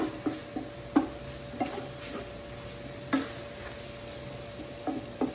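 A spoon stirs flour into sausage grease in a pan for homemade gravy, giving soft scraping knocks at irregular intervals over a quiet, steady low sizzle, close and gentle with no talking.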